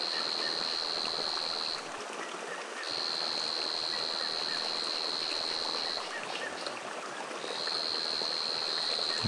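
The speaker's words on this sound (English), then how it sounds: "This has got water running, all this water running in is now running out again at the other end." Water runs through a dam overflow in a forest, a steady faint rushing flow heard from a distance, with a high insect-like whine pulsing on and off above it.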